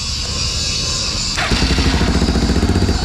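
A Suzuki DR650 motorcycle with a wiring short cranks briefly and then fires up, settling into a loud, close, steady thumping idle.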